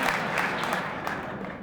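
Audience applause from Michigan State legislators during a presidential address, a steady dense patter of clapping filling the hall for the whole stretch, fairly loud and continuous.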